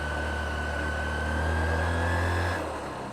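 Motorbike engine laboring up a steep hill in Dolakha, a loud steady drone with a sustained tone that holds under strain and then eases off near the end.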